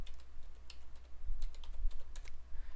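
Fingers tap out a password on a computer keyboard, a short run of quick, light, close key clicks in an irregular rhythm, no voices.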